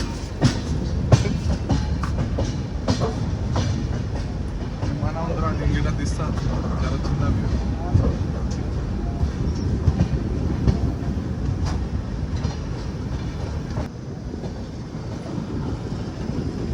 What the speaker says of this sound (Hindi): वो है बिलासपुर बीकानेर एक्सप्रेस, जो कि बीकानेर से चलकर बिलासपुर पहुंच चुकी है अपने गंतव्य पे